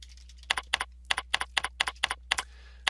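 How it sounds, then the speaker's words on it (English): Someone types on a computer keyboard: about ten crisp, close keystrokes in an even rhythm, then the tapping stops. "then I can start typing whatever I want to type"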